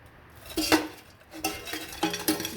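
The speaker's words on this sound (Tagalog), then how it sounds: "Then, ito ang ating pressure cooker. Lalagyan na natin yung chicken." Fried chicken pieces, cooked for dim sum style chicken feet, dropped into a metal pressure cooker: several clanking, scraping metallic hits at an uneven pace, close and fairly clear, with no talking.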